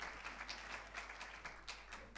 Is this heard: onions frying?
no